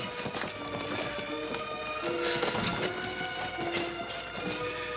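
Horse hooves clip-clop steadily with a brief whinny mixed in, all under a busy, loud background with some indistinct voices.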